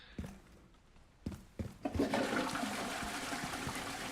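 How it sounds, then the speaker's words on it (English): A toilet flushes in the Resident Evil 9 video game: a few sharp clicks and knocks of the handle, then a loud rushing swirl of water that continues steadily to the end. "just flushing the toilet"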